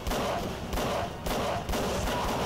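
Heavy Magnum revolver gunfire in the Call of Cthulhu: Dark Corners of the Earth game, a dense, continuous roar of shots swelling in loud bursts about every half second to second during a car chase.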